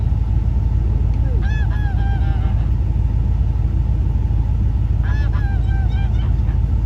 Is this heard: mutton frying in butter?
no